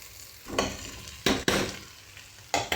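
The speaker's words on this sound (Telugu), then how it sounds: "బాగా ఎగుతుందండి, ఉల్లిపాయలు బాగా మెత్తపడుతున్నాయి." Onions fry in a pan with a continuous sizzle, broken by a few louder bursts as they are stirred, close and fairly loud with no talk.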